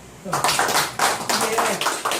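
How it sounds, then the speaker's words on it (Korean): An audience at a Korean history group's induction ceremony claps hands in a short burst of distinct, fairly close claps with voices mixed in. "박수 한번 치죠."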